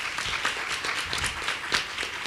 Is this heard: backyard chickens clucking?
no